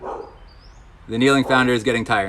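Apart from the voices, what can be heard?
dog barking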